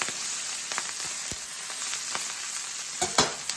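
Brussels sprouts browning in a hot pan give off a steady, fairly quiet sizzle, broken by a few short clinks and scrapes as they are flipped near the end.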